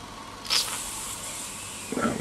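A Jensen 35 toy steam engine boiler heats over a gas flame, giving a faint, steady hiss with two short, louder bursts of steam.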